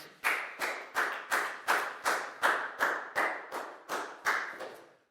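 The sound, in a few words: classroom clapping for a student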